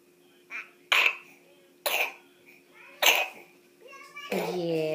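A small child coughs several times in short separate bursts, fairly close, followed by a bit of childish babbling.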